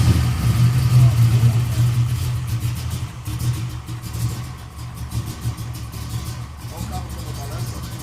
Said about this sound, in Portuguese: isso aqui é um motor todo de alumínio da Chevrolet.